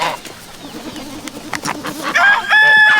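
Chickens cluck and squawk in a yard, scattered calls building to a loud crowing burst near the end, with rustling movement around them.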